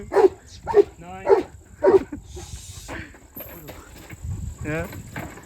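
On a farm where buffaloes and a horse are kept, a dog close by gives several loud, rough barks in quick succession. People talk over the barking and after it.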